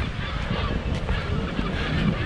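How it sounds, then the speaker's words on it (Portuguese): Seagulls call by the shore at Viña del Mar, Chile, with several honking cries over a steady wash of wind and surf. "Olha aí, os albatrozes, né? Que o pessoal fala, as gaivotas aqui"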